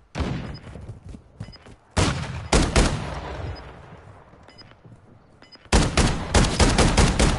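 Gunfire in Call of Duty: Modern Warfare 2, loud bursts of rapid shots in several clusters with quieter stretches of distant firing between them.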